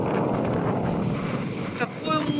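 Stormy sea at Mahmutlar, Turkey, with a heavy, continuous roar of wind and crashing waves buffeting the microphone, then a brief burst of voice near the end.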